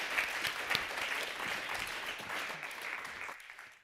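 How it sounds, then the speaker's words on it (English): Audience applause for the panelists at the close of a climate and urban water discussion: steady, dense clapping at moderate volume that holds throughout, then drops off near the end. "Please give a big hand of applause to our panelists."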